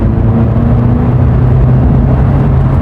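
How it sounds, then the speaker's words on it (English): A Kia with a new exhaust drones loudly and steadily, a deep close rumble that holds an even level throughout. "got the new exhaust on the Kia."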